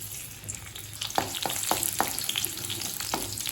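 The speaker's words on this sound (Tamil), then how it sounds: "கடாயில் தேவையான அளவு எண்ணெய், பொடியாக நறுக்கின பூண்டு," Chopped garlic sizzling and crackling in oil in a wok, with a few sharp pops and the scrape of stirring over a steady fry.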